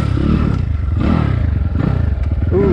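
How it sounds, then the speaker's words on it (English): A 2022 SSR SR300 Chinese dirt bike with a new carburetor chugs along in second gear on slippery dry ground, its engine a steady, loud, rhythmic low pulse with some clatter, close and with no talk. "That's a second gear chug, real good."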